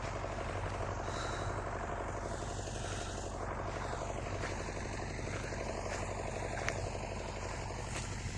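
A steady, loud MTZ-80 tractor diesel engine drones without a break while cultivating deep-ploughed soil with a KPS-4.2 cultivator, with a rough mechanical rumble and no voices.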